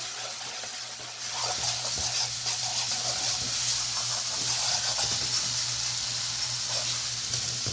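Steady sizzling and hissing of cumin frying in hot oil, soft and close, with occasional faint clicks and stirring.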